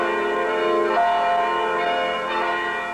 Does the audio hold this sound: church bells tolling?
yes